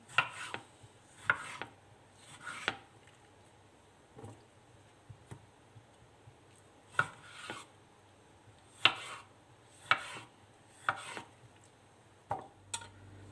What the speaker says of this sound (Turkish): Onlar pişerken ben de domateslerimi doğrayacağım.